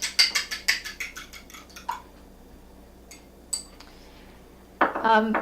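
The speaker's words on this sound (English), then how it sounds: "Give your egg a little beat." An egg beaten in a bowl with a utensil in a home kitchen, a quick run of rhythmic clinks against the bowl that pauses, then resumes briefly with a louder burst.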